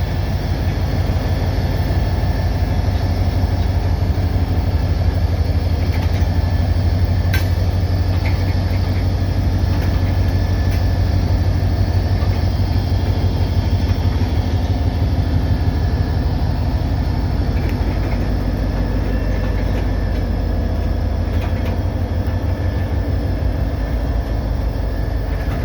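Diesel locomotive engine idling after a jump start, a steady low rumble that continues unchanged throughout with faint clanks now and then and no talking.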